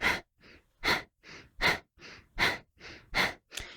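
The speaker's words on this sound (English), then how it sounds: "The inhale is spontaneous. The exhale is powerful." Forceful rhythmic breathing exercise with the abdomen pumping on each exhale: sharp, loud exhales alternate with softer spontaneous inhales, about ten breaths in steady quick rhythm, close and alone.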